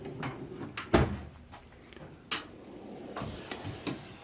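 A metal toolbox drawer for sockets and ratchets is opened, giving several sharp clicks, a louder clunk near the start and another near the middle, then light metallic rattles.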